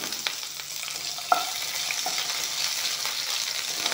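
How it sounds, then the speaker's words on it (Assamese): Garlic and onion sizzle in a pan with panch phoron, a steady hiss of frying broken by occasional scrapes and taps of stirring, close up with no voices. "এতিয়া নহৰু পিঁয়াজখিনি দি দিম একেলগে। এইখিনি একেলগে ভাজি ল'ম।"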